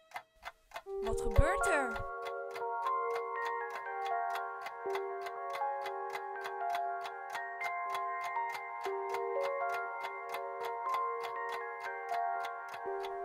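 A wristwatch ticks steadily in a quick, even rhythm over layered sustained electronic tones, with a brief voice speaking near the start.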